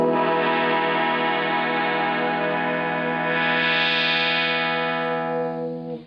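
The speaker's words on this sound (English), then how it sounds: "this is the rolling guitar synthesizer" Roland guitar synthesizer played through a filter pedal, one sustained, harmonically rich tone that holds steady, brightens as the filter sweeps open midway, then fades out at the end.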